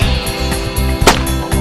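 A shotgun fires once while hunting perdiz in Uruguay, a sharp loud crack about a second in, set over a busy outdoor background of rustling and clatter, with no voices.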